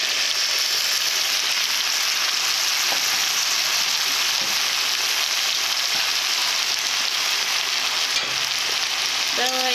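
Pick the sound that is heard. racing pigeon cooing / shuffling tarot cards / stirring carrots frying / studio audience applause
stirring carrots frying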